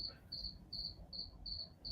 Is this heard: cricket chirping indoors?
yes